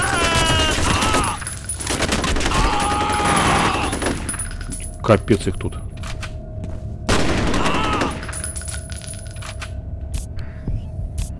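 Rapid bursts of gunfire in the video game F.E.A.R. crackle amid a constant electronic hum, with someone speaking briefly in Russian over the shooting.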